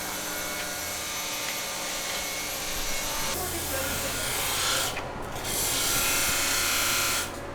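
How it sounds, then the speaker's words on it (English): Tungsten welding electrodes are ground to a point, a steady, dense abrasive rasp that carries on continuously at close range, with a brief change in tone partway through and faint background noise. "the technique that Todd uses to sharpen tungstens"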